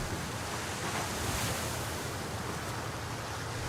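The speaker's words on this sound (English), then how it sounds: "I don't know if it's because of the rough waves or what." Rough sea waves in the War Thunder naval video game, a loud continuous roar of surf and wind washing steadily with no talk.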